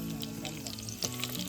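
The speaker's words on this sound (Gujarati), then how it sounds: "રાઈ કડકડથી ફૂટી ગઈ." Mustard seeds crackling and popping in hot oil in a cooking pot, a steady close sizzle dotted with sharp little pops throughout, fairly quiet, with no clear talk.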